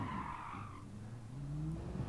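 Race car in GT Sport sliding on grass, a short rumbling skid with tire squeal and engine note rising in pitch, moderately close with no voices.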